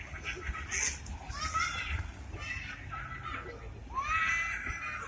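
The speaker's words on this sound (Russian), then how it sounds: "Так ссорятся утки, посмотри." Ducks squabble at a pond by the Trinity-St. Sergius Lavra in Sergiev Posad, with harsh overlapping quacks and squawks in several bursts, the loudest near the end, over steady background chatter of people and birds.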